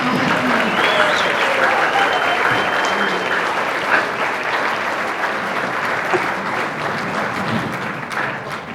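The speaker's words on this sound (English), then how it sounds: "Let's give another round of applause to our 2020" Sustained applause fills the room at the Miss New Ulm 2025 pageant and Firefighter's Dance, a thick, continuous wash of clapping from a crowd with faint voices mixed underneath, easing slightly near the end.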